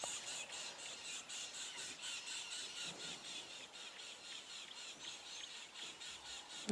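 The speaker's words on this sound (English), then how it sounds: "You can hear the birds' alarm calling at the hyenas." Birds give harsh, rapid alarm calls at hyenas on a safari at sunrise, in a steady repeating series, fairly loud and continuous against faint background ambience.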